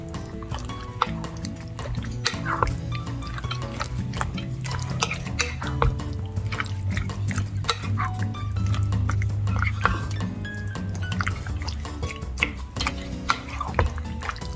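A spoon stirs tomato sauce and diced tomatoes for a no-bean turkey chili with bell peppers, making steady wet squelches and frequent clinks against the pot, with a person talking over it.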